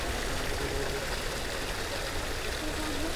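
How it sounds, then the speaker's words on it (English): Waterfall and stream in an English-style park with a grotto, Square des Batignolles in Paris: a constant, close rushing of falling water, an even broadband roar with no pauses. "a waterfall,"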